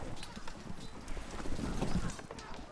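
Cavalry horses gallop in an Oriental Empires Three Kingdoms battle, a dense rumbling patter of hooves that swells toward the middle, with faint battle noise behind.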